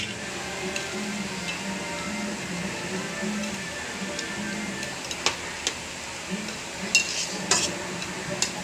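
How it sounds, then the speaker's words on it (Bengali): Pieces of fish go into curry boiling in a pot. Soft bubbling and sizzling continue throughout, with scattered light clinks and taps of utensils against the pot, fairly quiet. "জলটা ফুটে গেছে, এবার আমি মাছগুলো দিয়ে দেবো।"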